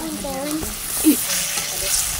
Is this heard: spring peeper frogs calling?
no